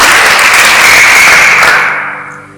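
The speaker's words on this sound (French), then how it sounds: "est-ce qu'on peut applaudir pour moi?" Loud, dense applause from a church youth gathering, sustained steadily before fading out toward the end, with no talking over it.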